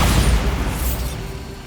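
Bombarda spell blast in Hogwarts Legacy, a heavy booming explosion that hits loud at the start and rumbles low before fading out over a second or two.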